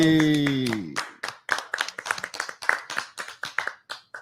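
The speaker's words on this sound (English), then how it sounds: "Some of the best clapping you guys have done" A short sustained tone fades out, then a group claps in a steady, lively rhythm of sharp hand slaps close by, with no talking.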